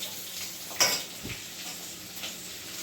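Onions frying in a kadhai for paneer tikka masala, a continuous sizzle with a sharp metallic scrape of a spoon near the start and soft stirring knocks, close and moderately loud.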